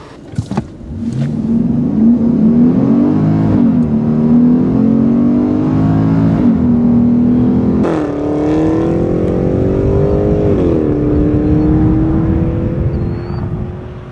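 A BMW X5 M SUV engine revs hard and climbs through several gear shifts, loud and close, with short dips in pitch between each surge.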